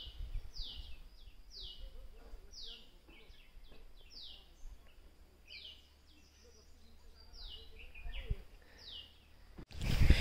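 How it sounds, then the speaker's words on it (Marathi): Birds sing in a quiet grove of tall coconut and areca palms, their repeated bright chirping phrases carrying from a distance over low ambient rumble, with a loud knock at the end. "फक्त आवाज आहे का पक्ष्यांचे"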